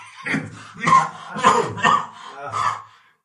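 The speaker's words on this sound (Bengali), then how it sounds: "এরকম কাশি হলে আপনি মুখে একটা রুমাল অথবা মাস্ক দিয়ে মুখটা ঢেকে নেন।" A person coughs several times in a row, harsh close-up coughs in quick bursts with short pauses between them.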